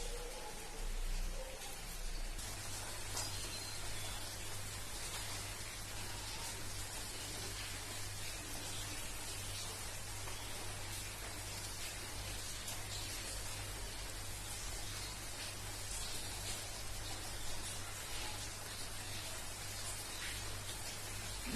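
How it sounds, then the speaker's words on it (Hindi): Rain falling outside a window on a cloudy day, a steady broadband hiss that continues evenly throughout, with a low constant hum underneath and no talking. "बाहर का वेदर पूरा क्लाउडी है, बारिश हो रहा है"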